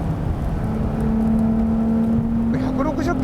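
A Nissan Fairlady Z Nismo runs at high speed in fifth gear on a track. A strong, steady engine drone holds one pitch and then steps slightly higher, with wind and road rush underneath.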